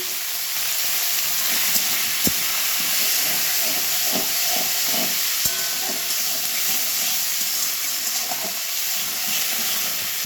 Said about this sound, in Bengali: ভাজবো, পেঁয়াজগুলো দিয়ে দিব, টমেটো আর পেঁয়াজ সবই দিয়ে দিলাম ফোড়নে।